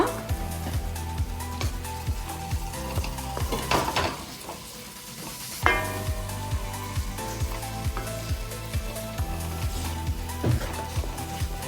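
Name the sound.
curry leaves added to hot pan, sizzling (mutton pepper dry)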